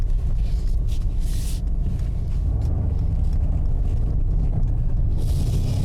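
A 2020 Mercedes-AMG GLC 63 AWD pulls away on a test drive, its engine a steady, loud low rumble from inside the cabin with wind noise laid over it and no crackles standing out.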